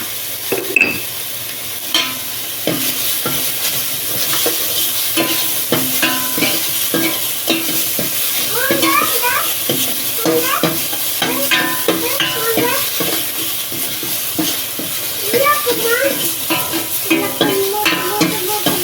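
Tomatoes with rock salt sauté in a pan for mushroom gravy, a steady close sizzle broken by repeated scrapes and clinks of a spoon stirring against the pan, continuing without pause and without talk.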